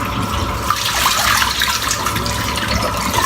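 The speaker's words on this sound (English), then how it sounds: "That's the hot water splash." Hot water running from a tap and splashing during a head-shave wash, a steady broadband rush that stays loud and close throughout, with no talking over it.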